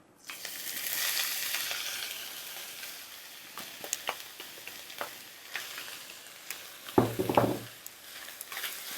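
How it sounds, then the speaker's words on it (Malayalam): Mushrooms sizzle steadily in ghee with caramelized sugar, a soft continuous frying hiss broken by occasional clicks and scrapes of stirring, with one louder clattering stir near the end. "കൂണ് നെയ്യിൽ കിടന്ന് നല്ലതായിട്ട് മൂത്ത് വരണം"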